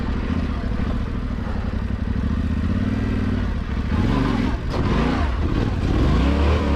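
Yamaha Tenere 700 motorcycle engine pulls hard and steady through a Mojave creek bed, a loud, close, continuous rumble with rising revs and clattering from the rough ground, no voices.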